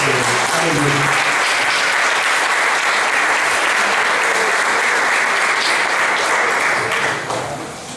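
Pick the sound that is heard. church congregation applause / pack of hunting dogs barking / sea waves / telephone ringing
church congregation applause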